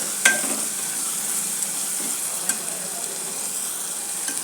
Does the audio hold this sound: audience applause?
no